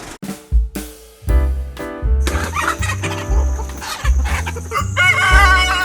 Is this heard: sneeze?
no